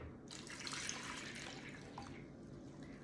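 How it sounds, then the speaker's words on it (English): Whole milk pouring into a liquid measuring cup, a soft continuous splashing gurgle that rises quickly and trails off, faint and close. "And then I'm gonna put 2 3/4 cup of milk."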